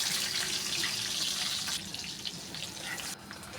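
Water is poured into a soybean-oil pan of lightly browned chopped onions for chicken curry, giving a steady close splashing rush that shifts and thins partway through, with no talk.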